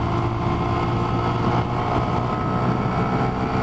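Honda Grom motorcycle engine at speed, a loud continuous drone mixed with heavy wind rush, steady throughout with no break.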